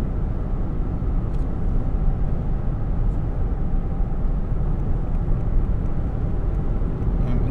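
Steady broadband road and engine rumble inside a 2022 Toyota Land Cruiser driving on autopilot and gaining speed, a constant loud drone with no talking.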